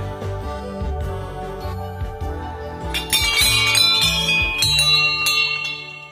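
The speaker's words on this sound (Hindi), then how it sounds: "उसमें आप देख सकते हैं बहुत सारी लोगों ने घंटियाँ चढ़ाई है" Many temple bells hang as offerings in the courtyard of Anusuya temple in the Garhwal Himalayas during a December fair. They ring in overlapping metallic strikes that build denser and brighter midway, with no voices over them.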